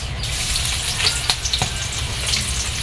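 Onion frying in hot oil for an okra, potato and egg fry, a loud continuous hiss of sizzling close up with a couple of brief stirring knocks.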